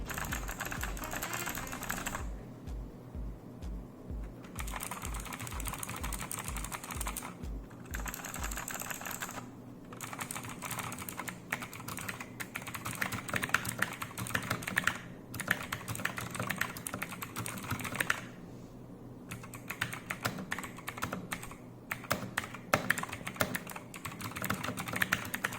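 Keys clatter in quick bursts on an Ant Esports MK-1000 keyboard, sharp close-up clicks and rattles running steadily with brief pauses between runs, alone without speech.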